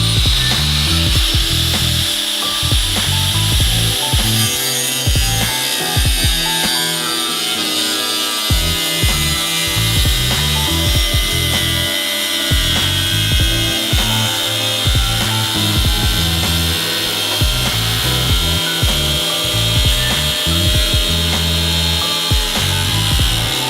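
Sheet metal being cut for a rust-repair rear floor pan on a Pontiac Star Chief: a loud, close, continuous power-tool whine with shrill harmonics and a rough, uneven rasp, running steadily throughout with no talking.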